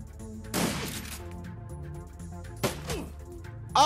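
Pistol gunfire in the video game Shadowrun: Dragonfall, with two sharp broadband shots about two seconds apart and another starting at the very end, over a steady low game music bed.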